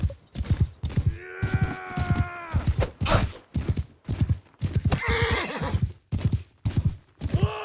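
Horses in the video game Mount and Blade Bannerlord clip-clop with rapid hoofbeats throughout, and loud whinnying neighs break in twice, close and prominent with no talk.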